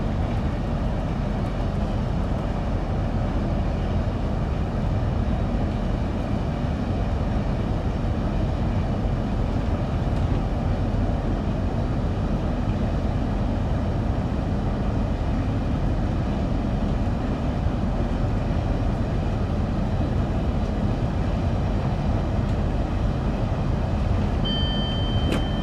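A train in Train Sim World 2 heading toward a high-speed stretch runs with a steady low rumble and broad rolling noise, constant and close throughout, with no talking.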